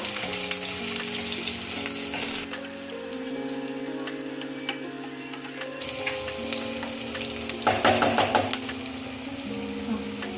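Onions frying in oil in a home kitchen pan, a continuous close sizzle with stirring scrapes and a louder clattering flurry near the end, while sustained music tones play underneath.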